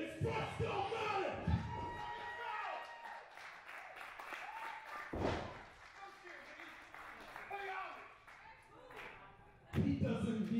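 Wrestling crowd at an FSW show roaring with cheers and jeers, swelling and fading in waves with a loud burst near the end, under steady talk.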